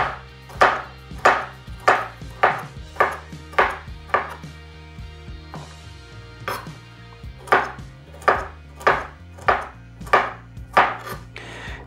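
Kitchen knife chopping pepper on a cutting board, about twenty sharp, evenly paced chops close up, with faint sustained tones underneath and no talk.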